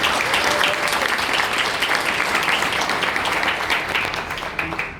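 Loud sustained audience applause at a Rotary Club meeting, dense clapping that holds steady and then thins slightly toward the end.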